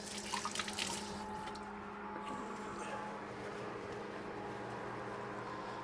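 Tap water runs steadily into a sink as hands are washed beside a grill at an RV park, a close, continuous rushing stream with a louder splash at the start.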